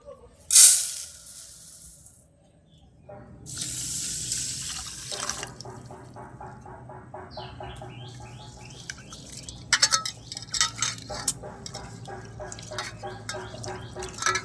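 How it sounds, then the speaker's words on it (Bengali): Gobindobhog rice is washed by hand in a bowl of water, with splashes and a tap hissing at the start, then steady swishing, dripping and grain rubbing close by. "তাহলে এই চালটা আমি প্রথমে একটু ধুয়ে নেব"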